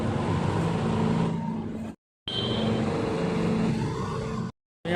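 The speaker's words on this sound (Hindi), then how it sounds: "अभी चलते हैं पार्किंग के अंदर, गाड़ी उठाते हैं" A vehicle engine running in a parking area, a steady loud motor drone with some changes in pitch, cut by two brief gaps of silence.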